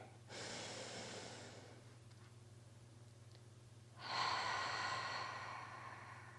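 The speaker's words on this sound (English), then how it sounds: "Inhale, 2, 3, 4. Exhale. 3 more breaths like that." Two slow, deep breaths during a guided breathing exercise for anxiety relief, a long inhale followed by a long exhale, each a few seconds of close airy rush over a low steady hum, with a quiet pause between and no talking.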